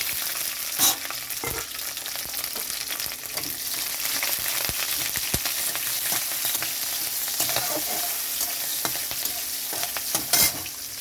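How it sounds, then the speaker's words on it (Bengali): Green chillies and black cumin seeds hit hot mustard oil with garlic, giving a steady close sizzle with stirring scrapes throughout and no talking. "এখন দিয়ে দিচ্ছি কাঁচা লঙ্কা, কালো জিরে।"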